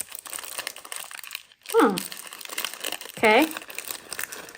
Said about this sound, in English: Let's just unwrap it and see what they look like,